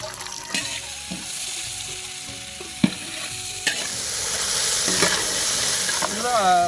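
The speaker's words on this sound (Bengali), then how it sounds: "তেজপাতা দিয়ে দেবো, তারপরে সম্বারা এবং জিরে দিয়ে দেবো, গোটা জিরে। এবং আমরা পেঁয়াজটা ঢেলে দেবো।" Sliced onion hits hot oil with bay leaves and whole cumin in a Bengali kitchen pan, bursting into a loud sizzle after a few clattering knocks, with stirring scrapes and a steady frying hiss building toward the end.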